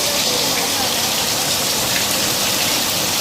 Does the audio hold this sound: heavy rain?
yes